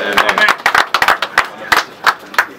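Audience clapping at the opening ceremony of new NG-CDF government offices, heard as scattered, uneven bursts of claps with short gaps between them, mixed with crowd voices.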